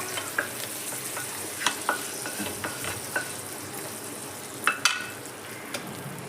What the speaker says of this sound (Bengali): গ্যাসের ফ্লেম আমি অফ করে দিলাম। এর মধ্যে আমি তরকাটা দিয়ে দিলাম।